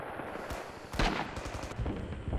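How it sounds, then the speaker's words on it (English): A Thompson submachine gun fires in the WWII shooter Rising Storm on an Iwo Jima map, with several sharp, close shots spaced unevenly over a rumbling battlefield background. "It's a lot easier to hit him at range with the Thompson."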